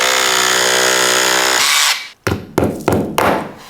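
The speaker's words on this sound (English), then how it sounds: "Now drill a hole big enough for an 8mm plug on the mark" A power drill boring an 8mm plug hole into a concrete floor runs at a steady high whine, then stops and gives several short bursts, loud and close.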